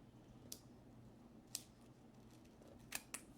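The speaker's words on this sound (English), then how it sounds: "I'm going to trim down that little plastic piece, that little embellishment" Scissors trimming a small plastic embellishment on a paper gift tag, four sharp crisp snips spaced irregularly, close and faint against a quiet room.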